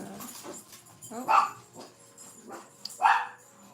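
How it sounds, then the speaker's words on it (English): Puppies bark in two sharp bursts between softer whimpers and yips, fairly close indoors, with a brief spoken word in between. "the puppies are protecting me again."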